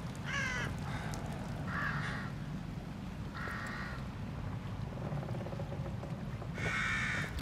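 Crows caw in the horror video game The Evil Within, with about five separate raspy calls spaced irregularly over a steady, low ambient rumble, fairly quiet and a little distant.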